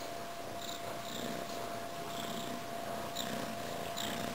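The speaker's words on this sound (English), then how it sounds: "You can hear Gertie purring too." An F2B Savannah kitten purrs steadily and close, a continuous low rumble running without a break, with faint higher chirps now and then.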